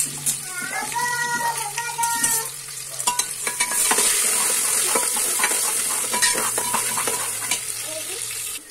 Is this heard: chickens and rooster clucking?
no